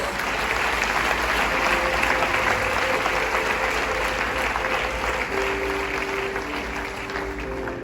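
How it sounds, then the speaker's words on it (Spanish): A church congregation breaks into sustained applause, a thick uniform roar of clapping that stays loud and even from start to finish, with a faint tonal hum running underneath. "Denle un aplauso al Señor, pues."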